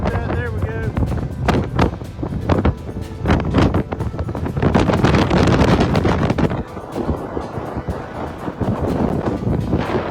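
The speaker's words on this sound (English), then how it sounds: "We got a little bit of wind blowing today." Strong wind gusts buffet the microphone on a saltwater fishing pier in North Carolina in loud, rumbling bursts, with a broad roar of wind and water surging throughout.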